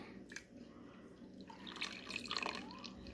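Liquid pours into glass canning jars, a soft trickling and dripping stream that builds and grows louder in the second half, heard alone at close range.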